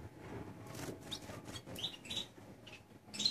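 Young Gloster canaries in a breeding room give brief, high chirps and soft fluttering wing sounds, scattered and fairly faint against a quiet background.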